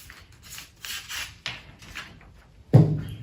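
Scissors cut through sweatshirt fleece up close in a few soft, rasping snips with short gaps between them, ending on a louder thump.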